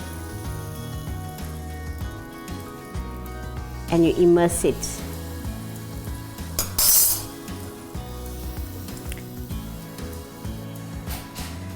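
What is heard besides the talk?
hot oil sizzling in mold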